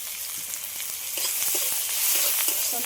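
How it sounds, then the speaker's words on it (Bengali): Tomato sizzles in a pan alongside onion, salt and turmeric, a dense, even frying hiss that swells slightly midway, with faint soft stirring taps underneath and no voices. "টমেটোটা একটু হালকা করে ভেজে নেব"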